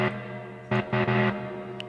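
Monophonic synthesizer drone run through a reverb effect, faint sustained tones with a few swelling notes that ring out and decay into a washy tail, no voices.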